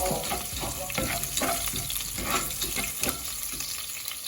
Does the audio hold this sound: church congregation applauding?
no